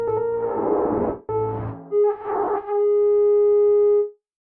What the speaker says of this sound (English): Synplant generates kind of a random sound using this seed planting technique-y thing.